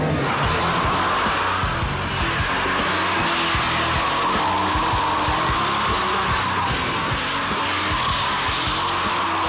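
Car spinning a donut in a driving-club session, tires skidding and squealing continuously while the engine revs hard and throbs, loud and close for the whole stretch, with a faint shout in the background.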